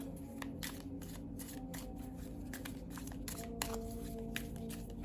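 Tarot cards are shuffled by hand in a steady run of papery riffles and soft slaps close to the microphone, continuous and fairly quiet, with no voices.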